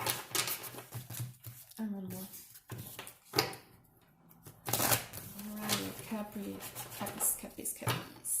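Tarot cards are shuffled by hand in five quick riffling bursts, close and crisp, with a voice talking between the shuffles.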